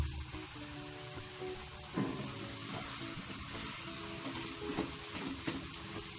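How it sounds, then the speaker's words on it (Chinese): Diced winter melon braising in about 100 ml of water in a covered pan over medium-low heat gives a steady, soft sizzle and bubbling hiss throughout, with a slight bump of noise partway through. "俾100毫升嘅水，冚盖中小火炆佢5分钟"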